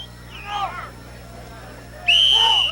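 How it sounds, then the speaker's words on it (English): Starting whistle at a tug-of-war contest, a sharp shrill blast rising near the end after a fainter earlier chirp, over a low crowd murmur. "Starting whistle."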